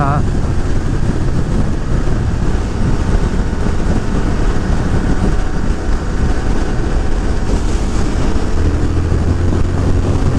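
A Triumph Speed Twin motorcycle accelerates in fifth gear, its engine a steady roar buried under heavy rushing wind noise, loud and constant throughout.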